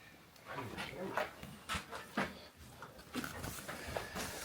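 Dogs brought along to a truck repair job whine and pant in short bursts near the microphone, with someone talking over them.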